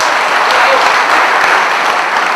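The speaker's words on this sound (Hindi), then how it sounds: "आप बहुत अच्छा सुन रहे हैं, तालियां भी बजा रहे हैं।" An audience at a Hindi poetry gathering (kavi sammelan) claps, a dense steady roar of many hands, loud and close, sustained throughout without pause.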